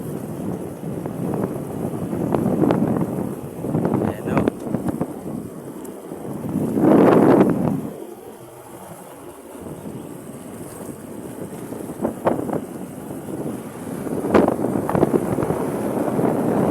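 Strong wind batters the microphone in heavy, roaring gusts that rise and fall throughout, close and loud, with no one speaking.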